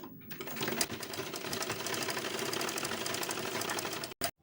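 A sewing machine runs a steady, fast mechanical stitching rhythm along the edge of a size 38 boat-neck blouse, close and continuous for several seconds before stopping abruptly with a brief final burst.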